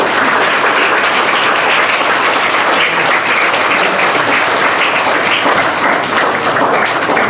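At a results ceremony at Pandit Variam Singh Khalsa Model School in Jabbowal, the crowd gives loud, sustained applause, a steady wall of clapping with no breaks.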